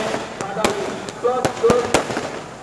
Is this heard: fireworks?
yes